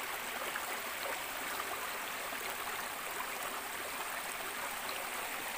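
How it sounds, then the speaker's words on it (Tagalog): River water flowing steadily midstream, a continuous even rushing wash at constant level with no breaks, close and alone without voices. "Nandito na kami ngayon sa kalagitnaan ng ilog."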